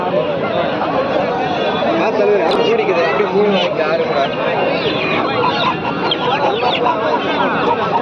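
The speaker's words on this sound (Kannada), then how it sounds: "ಇವು ನಾಟಿ ಕೋಳಿಗಳು ಮೈಸೂರು ಒಳ್ಳೆ ಮರಿಗಳು" Native country chickens cluck and squawk among a loud, crowded aseel poultry market din in Kundarapalli, Krishnagiri District, with people talking steadily throughout.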